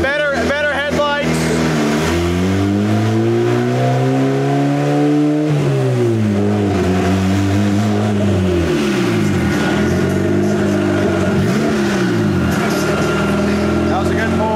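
A turbocharged Honda Integra engine revs loudly on a dyno, rising and falling in pitch through repeated sweeps, with voices talking over the constant engine roar.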